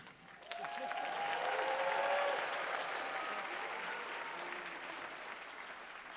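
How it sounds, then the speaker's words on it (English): Audience applause at a school district evening celebration, swelling into steady, dense clapping that peaks early and then holds at a slightly lower level through the end, with no talking over it. "The only way that happens is by your applause, so let's practice that again."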